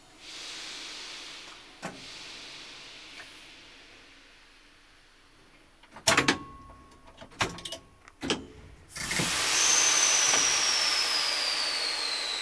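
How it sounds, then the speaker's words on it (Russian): Metro train doors in Dnipro slide open with a burst of hiss and clatter after a quiet stretch of hum, followed by a loud steady rush. "Аккуратно двери открываем."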